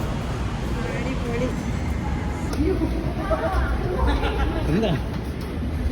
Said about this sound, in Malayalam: ഇവരെ രണ്ടുപേരെ നമ്മൾ മെട്രോയിൽ കയറ്റിയിരിക്കുകയാണ്